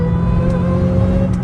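An 800 hp Dodge Hellcat Redeye V8 rumbles deeply at low RPM while cruising at night, a steady loud burble with a supercharger whine layered on top.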